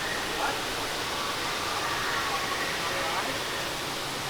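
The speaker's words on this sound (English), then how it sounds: "Got some more waterfalls and stuff over here." Waterfalls in Pandora at Disney's Animal Kingdom give a steady broadband rush, moderately loud and constant throughout, heard from a short distance with some faint background activity.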